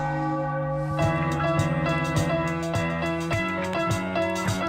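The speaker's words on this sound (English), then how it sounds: "they get to ring the bell and celebrate again tonight" A celebration bell rings repeatedly after a Philadelphia 76ers win, its struck tones coming at a steady rhythm of roughly two strikes per second, loud and sustained with a long ringing overtone wash and no talking.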